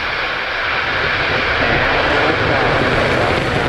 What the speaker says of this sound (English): T-minus 10, 9, 8, 7, 6, 5, 4, 3, 2, 1. Ignition.